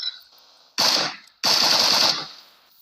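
Two loud bursts of rapid automatic gunfire from the video game PUBG, the first short and the second longer, separated by a brief pause.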